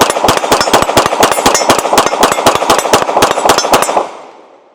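Rapid string of about twenty sharp gunshots from a Sig P320 SXG pistol fired quickly at a man-sized target at 15 yards, evenly spaced loud cracks in quick succession that cut off abruptly with a short fading tail.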